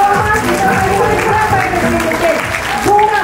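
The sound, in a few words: applause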